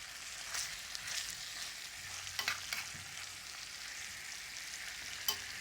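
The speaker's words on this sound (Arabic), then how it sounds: "كي تشوفوا خواتاتي الطاجين ديالنا هو تشحر." Onion and vegetables sizzle in a hot tagine as they brown, a steady close frying hiss broken by a few light scrapes and taps of stirring, with no voices.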